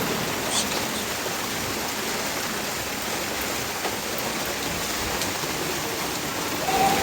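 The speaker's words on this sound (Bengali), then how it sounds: "তো বাইরে বৃষ্টি হচ্ছে খুব জোরে।" Heavy rain pours outside in a dense, even hiss of drops that holds steady throughout, with no voices.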